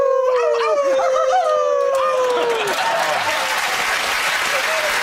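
A person imitates a wolf howl with long rising and falling wails, then applause and cheering from a crowd take over.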